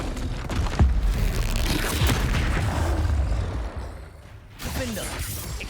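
Fiery explosions from the Confringo spell cast in the video game Hogwarts Legacy, a dense run of booming, crackling blasts with shattering debris, briefly easing before another burst near the end.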